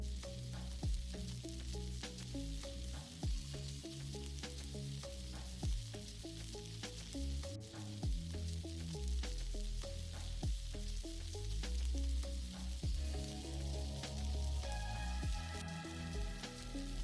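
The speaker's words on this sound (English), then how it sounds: "let them fry over medium heat, turning them from time to time to ensure even cooking." Fish pieces fry over medium heat in a frying pan, making a steady sizzle with fine crackles and pops under background music, with no voices.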